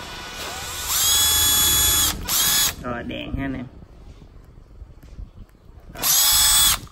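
Japanese 14.4V cordless drill whining at high speed in loud bursts as its speed control is tested, with pauses where someone speaks Vietnamese between runs.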